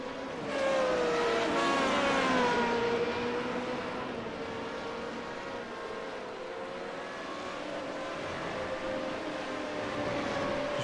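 A Formula Renault 3.5 single-seater races around the Hungaroring circuit, its high-pitched engine note falling under late braking and then climbing again, a steady roar with a second car droning close behind.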